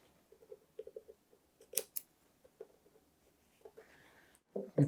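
Scissors cutting leather for box making, a series of soft, close snips and crisp blade clicks at an uneven pace in a quiet room, with a few louder cuts at the end.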